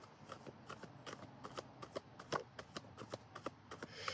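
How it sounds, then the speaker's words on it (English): Rapid riffling and clattering of small rune pieces being shuffled, a steady run of crisp ticks and rustles, close up with no talking. "shuffle the Liffruma runes"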